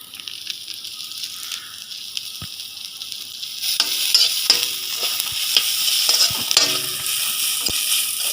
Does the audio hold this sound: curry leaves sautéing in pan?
yes